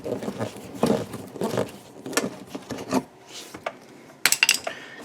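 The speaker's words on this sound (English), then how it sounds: "I'm going to use a T20 Torx screwdriver, and we're going to remove this Torx screw right here" A Torx screw on a Chevy Equinox headlight assembly being turned out with a T20 Torx screwdriver, a series of short scraping and clicking bursts close up with small metallic ticks and brief gaps, with no talking.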